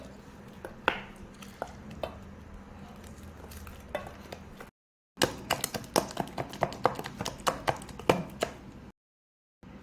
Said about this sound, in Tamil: பழத்தை போட்டு மசிச்சுக்கலாம் பருப்பு மத்து தான் எடுத்துருக்கு